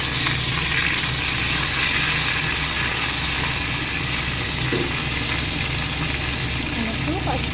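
Curry leaves and ginger frying in hot oil in a home kitchen pan: a steady, dense, close sizzling hiss that holds without a break.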